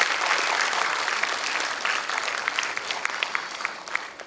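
Audience applause at a school event, dense steady clapping from many hands that goes on throughout the short stretch, with no voices above it.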